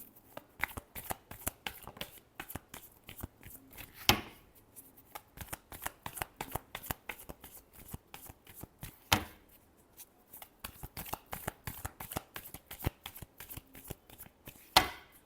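Tarot cards are shuffled by hand, close and crisp, in quick rhythmic riffles and flutters repeated throughout, with a few louder slaps as the deck is squared.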